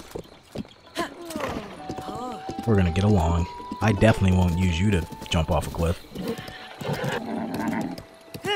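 Horse hooves clip-clopping and a whinny from a horse in the video game Zelda: Breath of the Wild, heard close under steady talk from a man playing along with game music.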